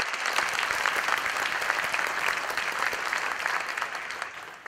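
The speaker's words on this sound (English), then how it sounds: "Please give them a huge round of applause" Steady round of applause from an audience at a Rooster Booster breakfast gathering, dense continuous clapping at moderate distance lasting several seconds without a break.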